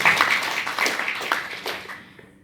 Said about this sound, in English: Please, let's give the CS another round of applause.